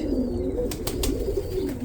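Pigeons, including light-coloured and white-headed birds, coo softly in a winter loft or yard shared with blackbirds, a low steady murmur with a few brief higher chirps or wing flutters over it.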